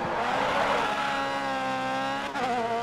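A race car engine in the video game Grid Autosport held high against the rev limiter, a loud sustained whining drone with a brief dip and gear change near the end, no talk.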